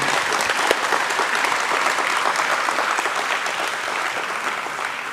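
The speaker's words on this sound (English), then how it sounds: "A bigger round of applause, come on." Sustained applause from a large conference audience celebrating an IPO, with thick, even clapping that holds loud and steady for several seconds and eases off only slightly toward the end.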